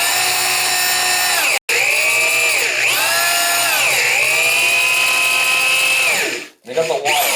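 A power drill works on a Moen shower valve, whining loudly and continuously with pitch dips as it bogs under load, one brief stop partway through, then trailing off near the end.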